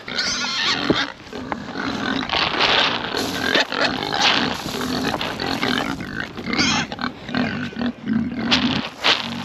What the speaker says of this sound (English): these pigs are kicking off